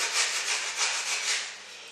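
Sandpaper rubs along the lower edge of a linoleum block in smooth, repeated back-and-forth strokes, close and continuous without talk.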